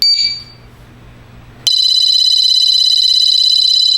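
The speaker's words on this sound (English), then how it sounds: "Now I'm going to re-trip the alarm so you can see it in a flashing mode." A Mosaic MA20 cordless motion sensor alarm is tripped and begins a loud, steady, piercing electronic tone that sounds continuously after a brief quiet pause.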